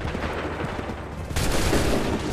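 Musket volley from Assassin's Creed 3, set in Montreal: a sudden loud burst of massed gunfire crashes in partway through over low rumbling battle ambience, then sustains as a dense roar.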